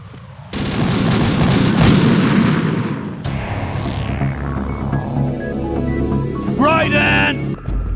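Bombs planted on a bridge in Metal Gear Solid 2 go off in a sudden heavy blast that rumbles on, followed by a second sharp explosion whose roar slowly decays, then clanking debris and metallic rattles.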